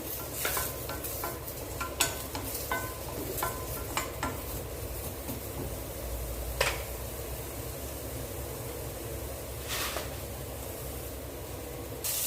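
Shallots and garlic sautéing in a little oil for kuzhambu paste, a continuous close sizzle broken by repeated sharp stirring clinks and scrapes of a utensil against the pan.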